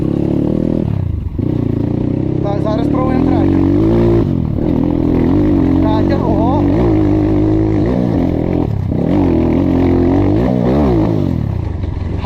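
A KAYA 612 motorcycle engine is heard while riding, loud and close, its revs rising and falling repeatedly with brief drops between throttle bursts.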